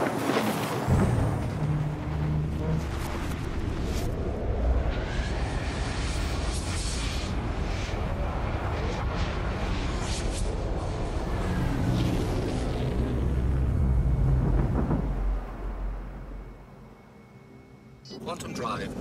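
A spaceship's quantum drive in a space video game gives a loud, steady roaring rumble with a whooshing wash that holds for about fifteen seconds, then drops away sharply near the end before a brief return. A voice talks over it.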